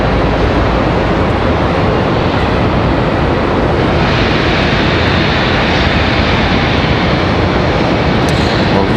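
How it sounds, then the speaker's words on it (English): An American Airlines Boeing 737-800 departing Charlotte Douglas gives a loud, dense, steady engine roar that brightens slightly midway, close and unbroken with no voices. "We've got American Airlines 1351. Looks like that's going to be our next departure."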